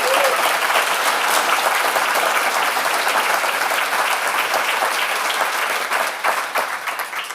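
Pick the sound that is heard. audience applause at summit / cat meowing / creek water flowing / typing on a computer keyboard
audience applause at summit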